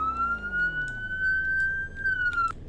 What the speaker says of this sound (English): here are your sirens. You have whale,